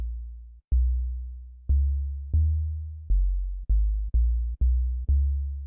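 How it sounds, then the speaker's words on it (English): A deep sine bass synth plays a series of pulsing notes, each with a sharp attack and decaying tail, starting sparse then coming faster and evenly spaced. "sine wave, subtle saturation, and messing around with the envelope, get kind of a pulsy 808 sound"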